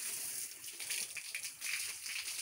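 A hose sprays water steadily at a piggery, a soft, continuous hissing rush, fluctuating slightly as the stream shifts, fairly faint and close.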